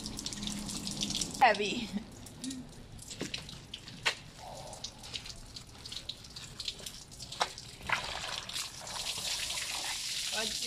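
Water mixed with bleach pours out of a Plastimo 150-litre plastic water tank bladder, a steady trickling and splashing flow with occasional drips and knocks, while a person speaks briefly.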